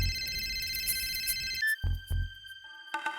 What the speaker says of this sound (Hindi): कब से फोन बज रहा है